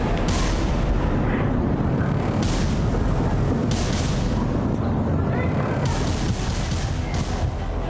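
Continuous heavy rumbling blasts and booming explosions from airstrikes, dense and loud throughout with no pauses, like a sustained bombardment.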